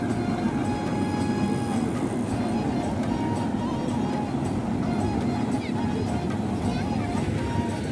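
A train rolls past near a large pond at Kumhari, filling the scene with a loud, steady rumble and rail noise that never drops away. Brief clatter marks the cars as they go by, and voices are heard over it.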